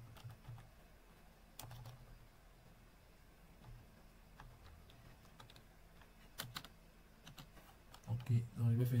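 Soft, scattered keystrokes tap on a computer keyboard at a desk with occasional louder clicks, faint and close, while someone speaks quietly near the end.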